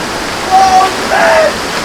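The wild waterfall at Muhan Pokhari near Kathmandu gives a loud, steady rushing roar of falling water. The sound fills the whole moment without pause, with a faint thin tone briefly heard above it.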